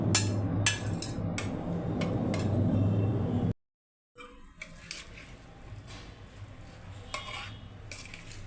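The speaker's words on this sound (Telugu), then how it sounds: "ఇవన్నీ కలుపుకుందాం." Chopped onions, tomatoes, green chillies, ginger and carrot are mixed in a bowl by hand, heard as close utensil scrapes and clinks with rustling vegetables, broken by a short silent gap, and nobody speaking.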